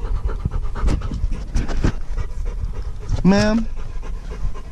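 A dog pants steadily in a car, quick rhythmic breaths running close to the microphone under a person's speech, with a short rising whine partway through.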